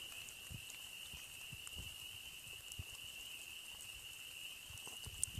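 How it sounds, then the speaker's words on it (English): Heavy spring rain pours down outdoors during a search for amphibians, a dense, steady hiss with scattered close drops and a constant high insect-like whine running throughout, with no talking. "now the rain is falling really hard"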